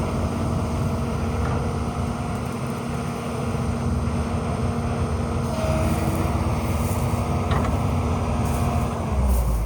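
A Kobelco 210 excavator with a hydraulic thumb moves in to park, its diesel engine a steady low drone with a constant hum, some wind buffeting and a few faint clanks near the end.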